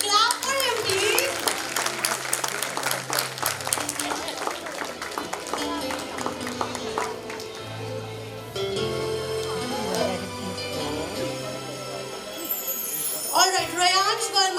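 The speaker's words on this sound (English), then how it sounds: "Clap for him, please." An audience clapping at a school annual function fancy dress competition, scattered applause mixed with children's chatter and background music, fairly close and lively throughout.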